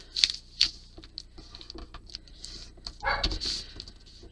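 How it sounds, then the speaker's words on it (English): Small indoor dog giving a few short, sharp barks at a moderate distance, with quiet crafting noises in between. "don't mind the dog barking"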